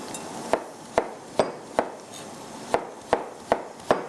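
A knife chops bottle gourd (lauki) on a kitchen cutting board, eight crisp evenly spaced thuds, close and clear over a low background hiss.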